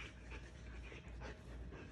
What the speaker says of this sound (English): You're the Ozzy puppy.